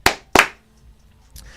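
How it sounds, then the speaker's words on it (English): Two sharp hand claps about a third of a second apart, loud and close, followed by a faint soft knock, with no talking. "There is your headlines and 2 claps for this morning."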